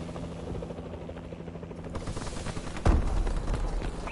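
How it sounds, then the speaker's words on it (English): Friendly assault drone flying overhead in a video game shooter, a loud mechanical rotor-like drone with rattling bursts, swelling sharply near the end into a heavier roar and crackle of gunfire. "Friendly assault drone in action."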